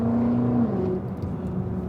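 A BMW with a built engine of about 1000 hp accelerates in a short pull, a rising engine tone that whirs and then fades out, with no talking.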